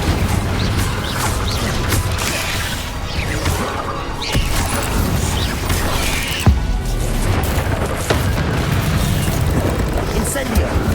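Spells such as Incendio are cast in Hogwarts Legacy combat, with repeated fiery bursts, booms and crashes layered over busy game noise, loud and dense throughout, while a voice calls out spell names.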